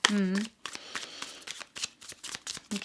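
Tarot cards are riffled and shuffled in a series of quick, close, crisp bursts, after a brief voice at the start.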